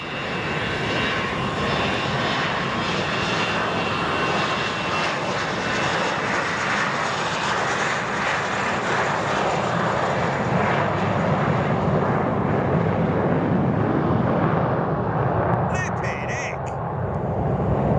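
A jet airliner at Boeing Field roars steadily and loudly from nearby, a broad continuous engine rush that holds throughout, with a brief chirp near the end.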